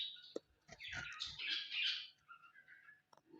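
Small birds chirp and twitter in quick, high bursts, faint and somewhat distant, overlapping in a busy little chorus.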